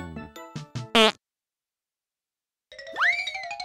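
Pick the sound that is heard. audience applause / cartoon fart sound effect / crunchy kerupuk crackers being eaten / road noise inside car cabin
cartoon fart sound effect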